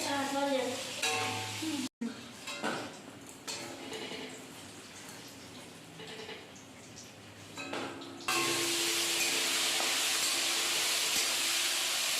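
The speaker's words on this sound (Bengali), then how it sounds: "এক এক করে সমস্ত রকমের সবজিগুলোকে ভেজে নিচ্ছে" Vegetables frying in a pan, one after another, for a traditional Bengali Ranna Puja meal. A soft hiss and stirring give way to a loud, continuous sizzle in the last few seconds, with faint voices early on.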